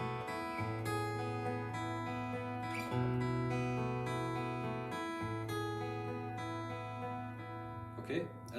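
Steady fingerpicked acoustic guitar pattern in a West Coast style, close and even, with sustained bass notes and a rolling treble line running for several bars and no talking.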